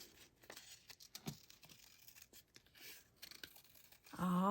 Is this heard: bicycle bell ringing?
no